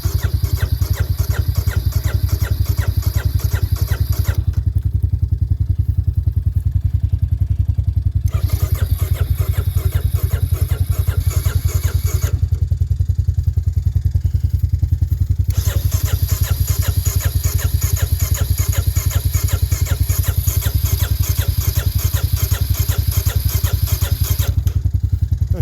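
A Honda Big Red engine is cranked on a cold start, with loud, rapid, pulsing churning in long bursts broken by two short quiet pauses between attempts, and no voices.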